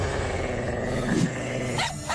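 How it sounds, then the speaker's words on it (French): Cartoon dogs growl low and steadily, then break into a couple of short yapping barks near the end, close and loud with no talk over them. "J'aime pas les cabots qui jappent."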